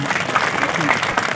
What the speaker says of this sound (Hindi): ताली बजा करके उनको स्वागत करें